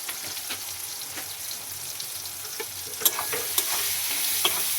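Food seasoned with turmeric and salt is stirred and fried in a pan. A spatula scrapes and taps at an irregular pace over a continuous sizzle, with a few sharper knocks near the end and no voices.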